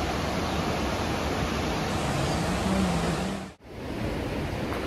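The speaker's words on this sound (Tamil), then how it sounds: "அப்படியே தண்ணி ஓடுற சவுண்டு கேட்டுக்கிட்டே இருக்கிறதே செம்மையாக இருக்குது." River water rushes steadily beside riverside cottages in Munnar, a continuous, dense wash of flow with no voices, briefly cutting out for an instant near the end before resuming.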